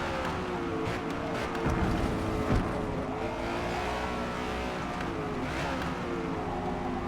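A race car slides sideways around the Nürburgring in Forza Motorsport, its engine roaring steadily at high revs with a constant tire-scrubbing hiss and passing cars blending into a dense, continuous drone.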